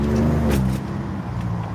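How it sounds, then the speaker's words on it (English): A Ford F-150 EcoBoost twin-turbo truck engine pulls under acceleration, heard from inside the cab as a loud, rising rumble with a brief shift-like dip partway through. "Oh, you hear that little EcoBoost? You hear them turbos? She pulls pretty good."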